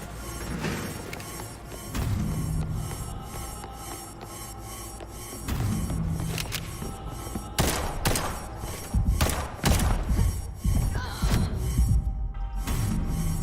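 Gunfire in the video game Liberated, heavy repeated shots and thuds over a dense, noisy game backdrop, with bursts coming faster and louder toward the end.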